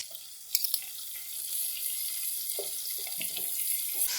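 Water poured in a continuous stream while masala cooks for khoye wale chane, a steady running-water rush after a few brief clinks, alone without speech.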